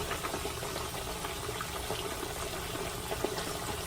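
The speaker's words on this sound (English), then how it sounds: "that grease hot and popping, I'm gonna fry these up" Dense, steady crackling and sizzling of tilapia deep frying in hot grease, close and continuous with scattered sharp pops.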